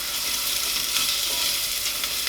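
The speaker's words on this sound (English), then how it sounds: "Got the sizzle noises, and those are the important noises." Steady, dense sizzling of food frying in a pan, a continuous crackling hiss at even loudness with no voices.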